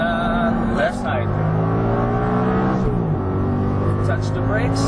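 An Audi R8 on a race track gives a continuous engine drone from inside the car that shifts in pitch as it accelerates and slows for braking, under steady coaching speech.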